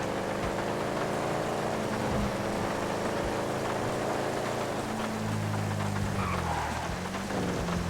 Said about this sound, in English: Now let's go ahead and change the weather to rain.